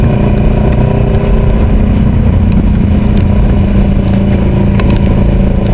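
A Kawasaki Ninja 650 engine runs loud and close, a steady rumble with a faint clatter over heavy rain during flooding in Marikina, holding a constant level throughout.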